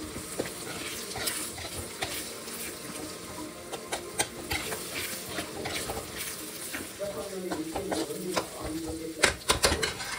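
A spatula stirs egg fried rice, street style, in a hot pan, with repeated scraping strokes over a steady sizzle, close and moderately loud, with no voices.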